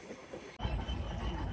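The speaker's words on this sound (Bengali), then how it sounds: "আমাদের ট্রেনটি এখন Rupdia railway station through pass করে যাচ্ছে" Ruposhi Bangla passenger train running through Rupdia railway station without stopping, a steady rumble of wheels and carriages that swells abruptly to a louder, continuous roar with faint rhythmic clatter.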